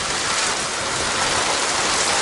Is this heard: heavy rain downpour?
yes